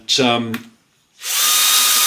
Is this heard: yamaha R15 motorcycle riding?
no